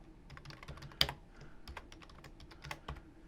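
Quiet, close typing on a computer keyboard at a server terminal: a steady patter of quick keystrokes with one sharper key strike, and no talk over it.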